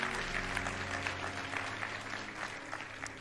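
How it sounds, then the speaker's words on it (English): A church congregation claps and cheers steadily through the whole stretch, a dense, loud wash of hands and voices with no break. "give the Lord a clap and a shout"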